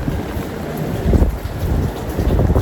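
Rain falls outdoors in a town street as a steady, dense hiss, mixed with gusty wind rumbling against the microphone, fairly loud and continuous throughout.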